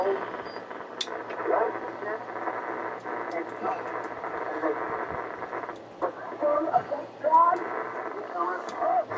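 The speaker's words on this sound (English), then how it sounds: "You get a little static, but better." Ham radio receiver hiss and static with the Timewave DSP 9+ noise filter bypassed, a steady broadband hash with faint warbling signals running continuously and fairly loud throughout.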